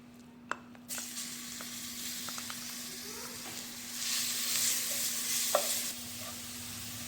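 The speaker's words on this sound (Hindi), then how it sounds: "लहसुन अदरक डाल के हमने मिक्स कर लिया।" Ginger and garlic sizzle gently in hot oil while a utensil stirs and scrapes the pan, with a few light clinks; a faint steady hum runs underneath.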